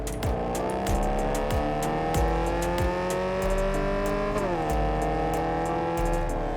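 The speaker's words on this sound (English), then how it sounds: "V jumps in a car" Car driven in the video game Cyberpunk 2077, engine tone rising and revving steadily with repeated low thumps and tire squeal, loud and continuous throughout with no talking.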